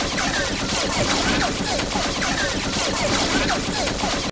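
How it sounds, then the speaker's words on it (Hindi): Rapid gunfire sounds in an animated cartoon set in a Squid Game style game, a dense, loud, continuous crackling barrage that stays unbroken throughout. "फिर बाबा ने फायरिंग शुरू कर दी।"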